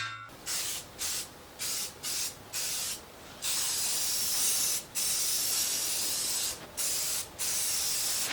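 Aerosol spray paint hisses onto a scrap-metal axle stand in a series of close, loud bursts, five short ones followed by longer sustained sprays separated by brief pauses, with no voices.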